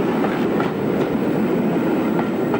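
Luxury Cock O The North train passing Gleneagles, Scotland, in 1994, hauled by Class 37 diesel locomotive 37201 assisting 37152: a steady, close, loud rumble with faint wheel clatter throughout.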